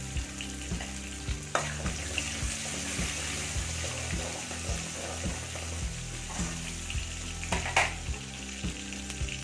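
Steady sizzling of 100 grams of sliced small onions frying in hot oil, with occasional stirring clatters, fairly quiet and close, no voices.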